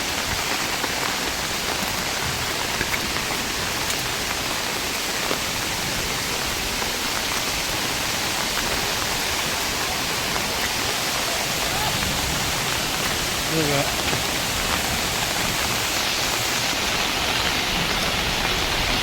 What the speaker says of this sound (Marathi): मित्रांनो, नदीला पाणी आलं आहे. जास्त नाही पण कमी आहे.